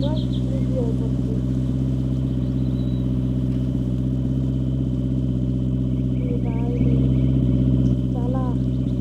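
A car engine hums at a steady, droning pitch while driving in a Roblox video game, with a brief swell near the end and a voice talking over it throughout.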